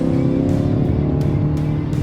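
A BMW X2 M35i SUV's engine pulls hard and loud under acceleration on a road in manual mode, with steady close engine roar and brief gear-shift breaks, no talking.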